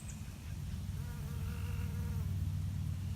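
Honeybees gathering pollen on flowers buzz steadily nearby, their wings droning with a slight rise and fall in pitch over a low outdoor background.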